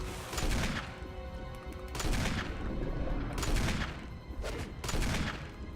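Bursts of gunfire aimed at the Tyrant in the Resident Evil HD Remaster video game, four heavy volleys of rapid shots spaced about a second apart, loud and booming with short gaps between.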